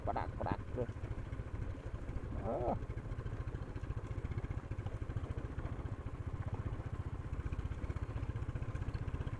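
A motorcycle rides a rough, rocky off-road mountain track near Kolakham in Kalimpong. Its engine holds a steady, close drone throughout, and a voice is heard briefly at the start.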